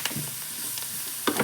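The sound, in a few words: sizzling of frying in butter in a pan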